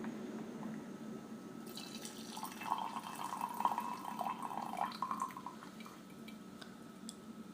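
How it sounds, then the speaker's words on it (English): Water trickles softly into a gaiwan to brew tea, a faint, steady pour with light dripping that swells in the middle and then eases off. "All you need to do is pour liquid in, cover."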